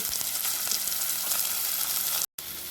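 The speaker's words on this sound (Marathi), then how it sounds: "हिंगानंतर कांदा आणि कढीपत्ता मला व्यवस्थित आपण छानपैकी परतून घेऊ आधी" Onion and curry leaves frying with asafoetida in a pan for a spicy prawn curry, a steady close hiss and crackle of oil with a brief dropout near the end.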